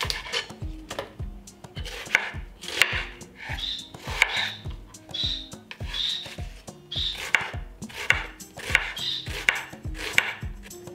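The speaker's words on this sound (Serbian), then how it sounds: "Dok čekam da voda proključa, iseckaću jedan luk." A knife chopping an onion on a board, a steady run of crisp, close, evenly spaced cuts with no talk.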